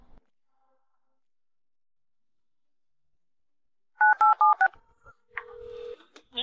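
A telephone number is dialed in a quick burst of about five key tones after a long silence, followed by a steady ringing tone and brief clicks.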